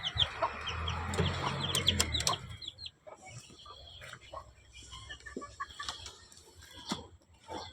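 Chickens cluck in a backyard poultry pen alongside small black chicks, a loud burst of clucking at first, then softer scattered clucks and chirps at close range.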